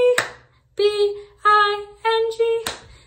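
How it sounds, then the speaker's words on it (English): Two sharp hand claps on the last letter of Bingo in a nursery rhyme, one at the start and one at the end, separated by sung syllables. "On the last letter, on the O, we're gonna clap."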